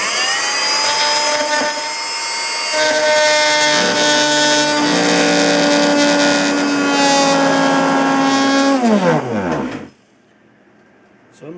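A cheap Harbor Freight power tool cuts material for Tesla coil primary support brackets, a loud steady whining drone for about nine seconds that winds down as it stops.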